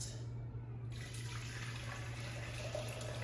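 Bone broth pours steadily through a strainer in a kitchen, a continuous splashing trickle of liquid at moderate distance with no voices.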